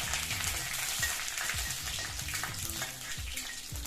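Dried red chillies and curry leaves fry in hot coconut oil for a clam meat thoran, a steady close crackle and sizzle with irregular popping and spitting throughout.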